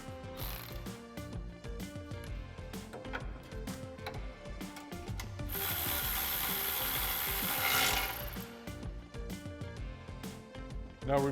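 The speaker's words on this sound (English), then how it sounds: "Now we can reinstall our bolt using our 13mm socket." A ratchet with a 13mm socket tightens a bolt on a 2015-2022 Mustang cross member, giving rapid clicking pawl bursts close by, then a longer steady spinning rasp, then more clicks, no speech.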